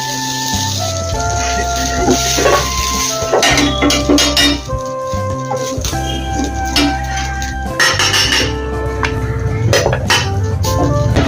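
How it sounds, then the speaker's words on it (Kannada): Cooking pot and metal utensils clanking and clinking on a stovetop near a hot tava in a home kitchen, several close metallic knocks and rattles over a running background hiss. "ಈಗ ಒಂದು ಪಾತ್ರೆನ ಇಟ್ಕೊಂತಾ ಇದ್ದೀನಿ."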